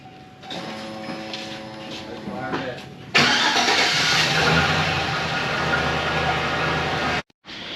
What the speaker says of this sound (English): Truck starts, everything is good to go.